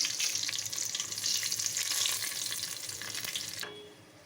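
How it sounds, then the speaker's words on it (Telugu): Whole garam masala spices fry in hot oil with a dense, even, hissing sizzle that holds steady up close, then cuts off abruptly near the end. "ఆయిల్లో హోల్ గరం మసాలా వేసుకున్నామండి. ఫ్రై అవనివ్వాలి."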